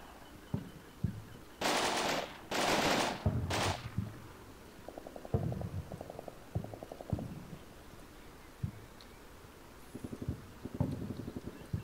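Bursts of gunfire from soldiers in a video game training campaign, with three long, loud bursts early on, then clusters of quicker rapid shots and scattered single cracks throughout.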